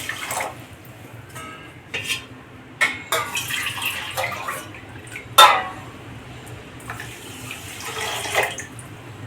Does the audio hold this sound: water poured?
yes